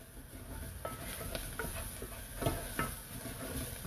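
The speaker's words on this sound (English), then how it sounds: "So my gold onions are going nice and brown. They're just cooking up now." Onions frying in a pan during a home cooking session, a steady close sizzle with occasional stirring scrapes and clinks, no talking.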